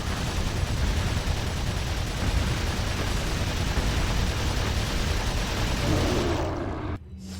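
Dense, continuous gunfire and explosive booms from the video game Resident Evil 4 HD, a loud unbroken roar of shots that cuts off abruptly near the end, with no talking over it.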